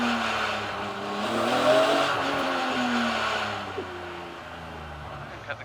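A BMW race car engine idles and revs at moderate distance at Brands Hatch, pitch rising and falling in steady waves as it warms up, with a couple of brief clicks near the end.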